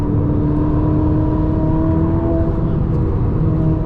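A Ferrari SF90 engine drones steadily under hard acceleration, heard from inside the car as a loud, continuous rising hum with road noise and no talk.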